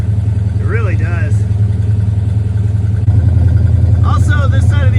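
The 1969 Dodge Charger's engine runs at a steady, loud idle with a deep rumble throughout, while people talk over it.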